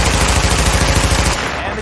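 Rapid gunfire crackles through a firefight in The Division, a loud, continuous burst of automatic shots that cuts off near the end, leaving a quieter tail.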